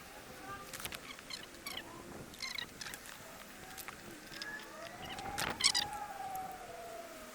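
A stray street cat approaches a small outdoor cat house, giving faint scattered meows and cries over quiet outdoor background noise, with a brief louder call near the end.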